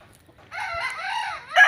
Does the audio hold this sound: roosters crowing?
yes